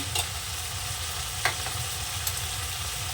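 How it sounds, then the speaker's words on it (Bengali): Ginger-cumin paste frying in chana dal makes an even, close hiss and bubble, broken by a few faint utensil taps. "আর আদা জিরে বাটা আবার একটু কষে নেব"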